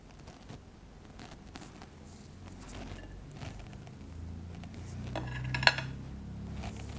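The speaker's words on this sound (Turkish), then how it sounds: "Güzelce karıştırıyoruz" Spoon scraping and clinking around a large bowl while yogurt and carrots are stirred together, soft irregular stirring with one brighter clink near the end, no voices.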